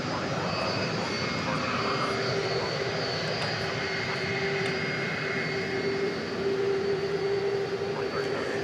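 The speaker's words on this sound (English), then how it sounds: "757 cargo jet going to Chicago Rockford International Airport." A UPS Boeing 757 cargo jet at DFW Airport at night, a steady broad roar with a faint whine, continuous and fairly distant throughout.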